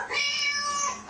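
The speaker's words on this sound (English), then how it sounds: "Cat." A cat gives a single drawn-out meow, clear, close and tonal, lasting about a second on its own.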